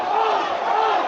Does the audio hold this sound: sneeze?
no